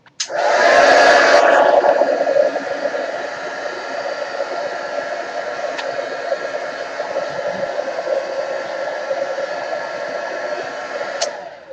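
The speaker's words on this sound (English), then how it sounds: "take my heat gun for 2 seconds and make sure this is dry" A heat gun blows over a layer of acrylic paint as it dries, giving a loud, steady, close-up whooshing roar that starts abruptly and holds evenly to the end.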